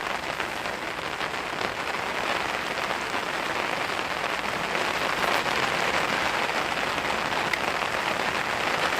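Rain drums steadily on a fishing umbrella during a cage feeder fishing session, a dense close patter that stays loud and even throughout with no voices.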